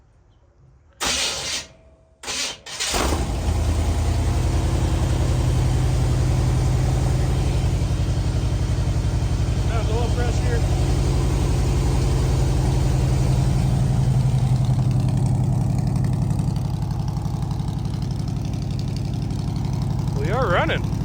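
A car engine cranks in short bursts, catches after being primed with fuel and settles into a steady, loud idle that runs on for the rest of the stretch on an open-top ragtop build.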